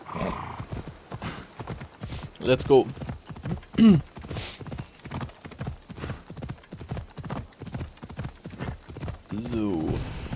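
A horse gallops in Assassin's Creed Odyssey with rapid, rhythmic hoofbeats throughout, punctuated by a whinny partway through, while someone speaks briefly over the game sounds.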